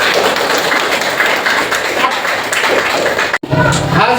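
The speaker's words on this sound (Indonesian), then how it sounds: "Tepuk tangan terlebih dahulu untuk semuanya karena selesai menjawab tugas." A class of students clapping their hands together in a classroom, a steady, fairly loud patter of many hands with voices mixed in, briefly cutting off near the end before resuming.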